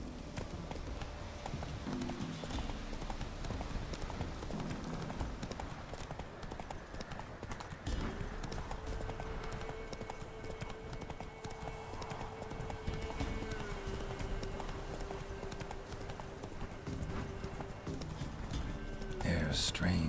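Roach the horse gallops with a fast, continuous clip-clop of hooves in The Witcher 3, layered under game music with a held tone and voices talking, and a short burst of noise at the end.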